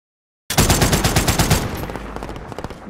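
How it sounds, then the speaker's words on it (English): Rapid automatic gunfire from a video game shooter, a loud sustained burst of close shots that thins into scattered rattling rounds toward the end, with no talking over it. "I only have 40 bullets. No time to reload."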